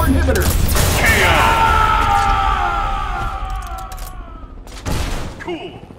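Iron Man's proton cannon super in Marvel vs Capcom Infinite, a long sustained roaring beam blast with rising whine and mechanical rumble, then a final loud impact boom near the end.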